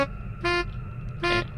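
Two short, loud honks from a video game car horn in Saturday Morning RPG, each a bright stacked tone about a fifth of a second long, spaced under a second apart over a low steady background hum.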